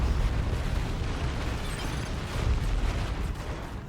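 Sustained, dense rumble of unit volleys in the Dawn of War 2: Retribution strategy game, a continuous roar of overlapping gunfire and blasts at steady loudness throughout.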